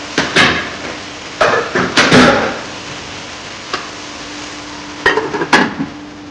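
A spoon stirs cabbage and corned beef seasoned with chicken seasoning in a pot, making sharp, close metallic clanks and scrapes in short bursts separated by quiet pauses.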